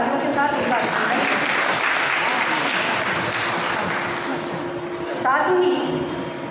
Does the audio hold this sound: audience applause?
yes